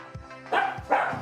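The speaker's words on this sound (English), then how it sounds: "Dogs are losing their mind because my girlfriend just came home." Dogs barking at home in a few short bursts, fairly close and loud, with a game playing in the background.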